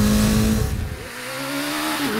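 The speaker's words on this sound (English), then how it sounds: "So this is powered by a Kawasaki Ninja 900R motor." A custom trike powered by a carbureted Kawasaki Ninja 900R motor revs loudly close by, one sharp climb and drop in pitch followed by a steady rising drone, with no talk.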